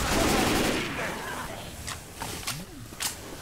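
Gunfire in Left 4 Dead 2 during a versus match: a dense burst of shots early on, then a few sharp separate cracks fading into quieter background noise.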